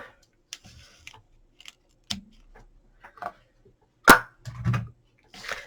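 Tape on a gift box is snipped off. A few sharp, isolated clicks and snips break up quiet handling noises, close by and brief.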